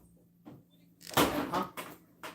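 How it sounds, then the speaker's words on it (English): A child pushes an indoor door shut at home: one loud thump with a short rattling decay, preceded by faint shuffling and followed by a couple of softer knocks. "Tayton, close that door and be quiet right now."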